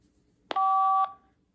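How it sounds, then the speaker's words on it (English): A vintage car phone fitted with a Bluetooth adapter prototype powers up with a single clean electronic tone, a sharp click-start then a steady beep lasting about half a second, alone in a quiet room. "First, let's power up the phone."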